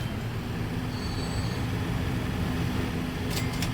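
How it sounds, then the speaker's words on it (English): A train pulls out in the rail-building game Transport Fever 2, a steady low rumble of rolling rail cars with brief faint high squeals near the end, no voices. "So all we need to do is get this train out of here."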